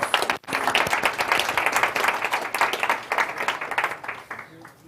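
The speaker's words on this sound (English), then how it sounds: "Another round of applause as he leaves." An audience at a food-system and technology event applauds as a speaker leaves, sustained close clapping from many hands, loud and steady, fading slightly near the end.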